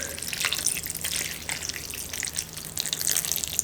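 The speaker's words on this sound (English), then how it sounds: "and pour the soup" Seafood broth poured over ramen noodles with vegetables and seafood, a close splashing, gushing liquid stream with small drips and spatters, continuous for a few seconds and no one speaking.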